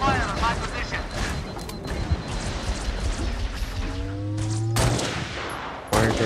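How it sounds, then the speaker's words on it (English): Gunfire in the video game Halo Reach: dense rapid shooting and booms fill the scene, with tonal game effects rising near the end and voices heard under the action. "Hostile fire on my position!"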